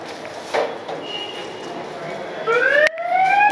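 A phone's anti-theft app alarm siren suddenly starts up, loud and close, with rising, sweeping tones after a short stretch of quiet room noise and talk.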